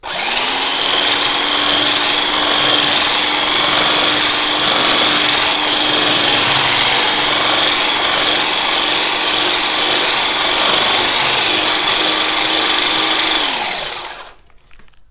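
An electric mixer whips chantilly cream while icing sugar is added, giving a loud, steady whirring drone with a constant hum that runs unbroken for about fourteen seconds and then cuts off.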